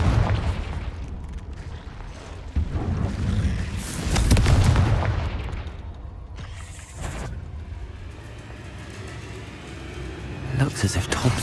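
Confringo spell blasts in Hogwarts Legacy on PC inside a cave: a series of deep booming explosions with rumbling tails and crackling bursts, mixed with game sounds and a voice speaking over them.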